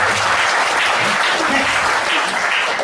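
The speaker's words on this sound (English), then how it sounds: "So can you please give a warm applause?" Audience at a product demonstration seminar breaking into steady, dense applause, loud and sustained throughout with no pauses.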